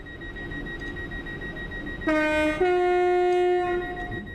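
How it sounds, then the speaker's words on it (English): A loud, harmonically rich horn blasts from a Simtrack Centro 323 train in a simulator, sounding suddenly over a steady cab hum, stepping up in pitch partway through and holding for about two seconds. "Noisy horn."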